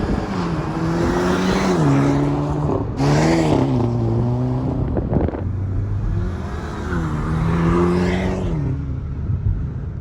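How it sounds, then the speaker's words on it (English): A 2021 Hyundai i30 N hot hatchback with a wet-clutch DCT drones as it passes close by, pitch rising and falling through gear changes, with a steady exhaust roar and no crackles or pops. "have a listen to this as the car drives past the camera"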